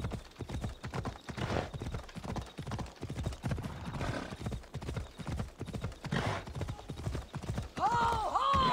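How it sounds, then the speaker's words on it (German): Galloping horse hooves from Assassin's Creed Odyssey pound in a steady rapid rhythm, close and loud, with whinnies and bright game sound effects rising near the end while someone talks over parts of it. "Ich versuche mit dem Pferd durchzukommen."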